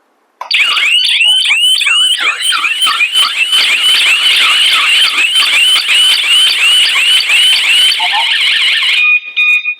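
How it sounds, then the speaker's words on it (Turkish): A PGST home alarm siren set off by the remote's SOS button wails loudly and continuously in a rapid, warbling sweep, then cuts off abruptly near the end. "Buradaki eşsiz butonu tetikleyerek alarm cihazının nasıl çalıştığını gösterelim"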